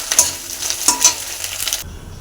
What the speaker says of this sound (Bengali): ডিমটা ভেজে নিচ্ছি, ভাজা হয়ে গেছে